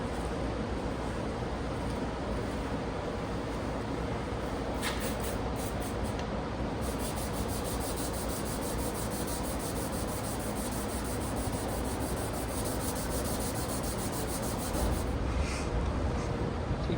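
A sanding disc works over oxidized paint on a 1962 VW Samba bus, giving a steady, close abrasive rubbing that runs the whole time with slight shifts in tone and no talking.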